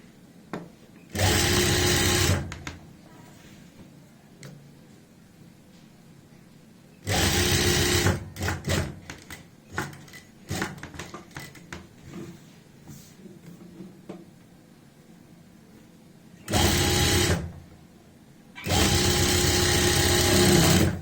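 Four close, loud bursts of a sewing machine stitching fabric for a dhoti salwar, each lasting one to two seconds, separated by quieter handling noises and pauses.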